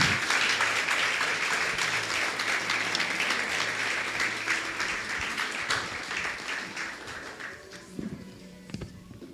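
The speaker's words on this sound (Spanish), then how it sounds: "Si lo crees, dale un fuerte aplauso a Dios." Church congregation applauding, dense clapping at first that thins and fades toward the end, leaving a few scattered claps.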